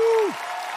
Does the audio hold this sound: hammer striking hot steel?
no